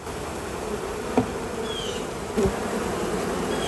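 A dense, steady buzzing of a late-October honeybee swarm fills the air, close and continuous, with a few individual bees zipping past.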